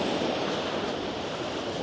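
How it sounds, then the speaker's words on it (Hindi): Ocean waves crash on a Spanish beach in the morning, a steady, fairly loud roar of surf with no voices over it. "this sound of waves crashing"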